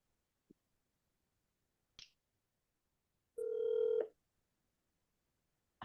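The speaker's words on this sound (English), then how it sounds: "I'm just gonna get him on my phone." Someone dials a cell phone to call a person: a few quiet taps, then a single steady keypad tone lasting under a second, followed by another faint tap in a quiet room.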